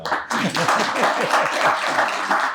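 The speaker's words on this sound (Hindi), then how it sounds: "जब ताली बजाओ तो सब बजा दिया करो" An audience at a camp gathering claps together, a dense, steady patter of many hands heard close for a couple of seconds, with a voice faintly under it.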